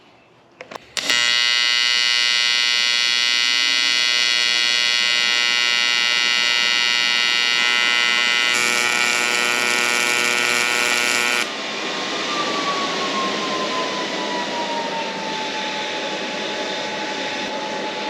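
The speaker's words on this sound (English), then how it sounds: "we'll see if this thing TIG welds" A TIG welder that is 4.5 years old and failing runs a fillet weld. It gives a loud, steady electrical buzz for about ten seconds, then drops to a quieter hiss with a falling tone.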